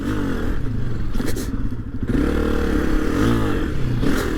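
A 2022 Honda CRF250F dirt bike chugs over trials rocks in second gear, its single-cylinder engine loud and close with low, uneven revving and brief clattering scrapes.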